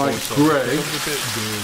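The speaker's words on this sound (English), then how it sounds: "There are the potatoes. Put them in. They sizzle nicely." Potatoes for roasting hiss and crackle in hot oil, close and steady, with a voice talking over the frying.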